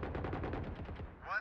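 Rapid automatic gunfire in the tactical shooter Valorant on the map Fracture rattles in a fast, even burst of about a dozen shots, followed by a brief ricochet-like whine.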